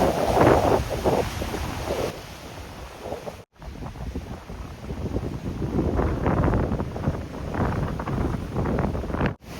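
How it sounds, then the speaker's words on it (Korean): Seawater surging in and out of a small sea cave on the coast, a continuous rushing wash of waves with heavy wind buffeting against the microphone, loud and close, briefly cutting out partway through. "작은 동굴에 바닷물이 끊임없이 드나들고 있습니다."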